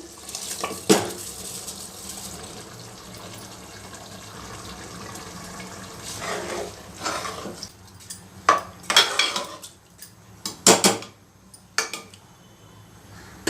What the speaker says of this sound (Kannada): ಈಗ ನೆನೆಸಿರೋ ಅಂತ ಅಕ್ಕಿ ಸೇರಿಸ್ತಾ ಇದ್ದೀನಿ